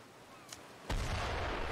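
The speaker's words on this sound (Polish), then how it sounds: "I w taki sposób oddajemy strzały." A ship's cannon salvo fires in the naval battle game Here Be Dragons: a small pop, then one loud, close boom that holds as a broad, sustained roar until the end.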